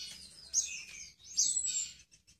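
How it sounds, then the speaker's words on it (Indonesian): A young crystal prinia chick gives two thin, high-pitched rising calls, close and fairly clear, with a few faint chips trailing off after. "anakan ciblek kristal atau ciblek kapas, anakan tunggal dan jamin jantan"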